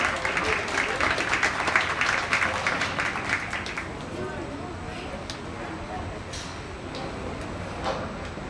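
Applause from the crowd at a junior livestock show for the young participants, a few seconds of brisk, moderately near clapping that thins out into quieter room noise.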